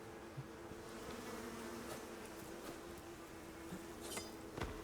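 Bees buzzing in the survival video game Icarus, a steady insect drone running throughout at moderate level, with a few brief clinks and sharp effects near the end.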